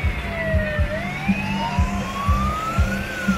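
A train passes near Boom Beach in Banyuwangi, a wailing horn tone gliding in pitch over steady rhythmic low clacks of wheels on rails, fairly close and without talk.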